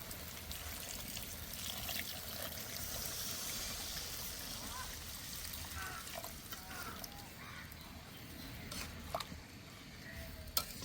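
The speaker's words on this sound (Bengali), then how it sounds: "এবার জল দিয়ে দেব" Water goes into a pan of chicken and peas ghugni, a steady low rushing hiss with faint clinks near the end.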